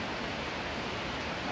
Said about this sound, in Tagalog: Kasi sobrang lakas ng ulan.